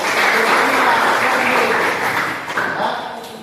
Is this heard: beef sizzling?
no